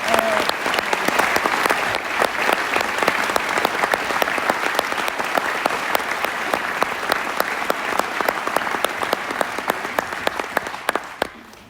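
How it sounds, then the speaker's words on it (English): Sustained audience applause for members of a brass band at a concert, dense clapping holding steady for about eleven seconds before trailing off abruptly at the end. "Let's give Jamie, Rob, Colin and Mark a massive round of applause"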